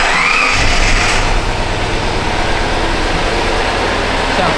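A Subaru Legacy Turbo engine starting up in a closed garage, a loud steady low engine rumble settling into idle with a brief higher whine near the start and no talk over it.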